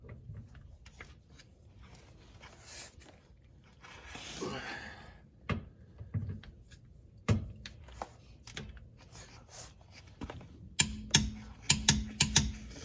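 A torque wrench with a 24 mm socket tightens a sensor on a Subaru STI rear differential, giving sparse quiet ratcheting clicks that build into a few sharper, louder clicks near the end, close by.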